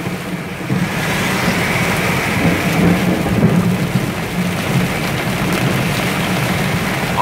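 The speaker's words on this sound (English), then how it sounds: "It's absolutely insane how bad this storm is." A heavy thunderstorm over North Charleston, South Carolina pours steady loud rain while deep thunder rumbles underneath, a continuous dense wash of downpour with no voices.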